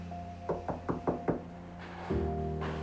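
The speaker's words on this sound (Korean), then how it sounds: "누군가 문을 두드리는 소리가 들렸어요." Five sharp knocks on a door in quick succession, loud and close, over a steady low hum, followed by a sustained tonal drone.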